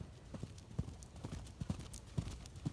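A gaited horse canters, its hooves striking in a steady, close clip-clop rhythm of paired and single thumps that repeats through the whole stretch, with no voices over it.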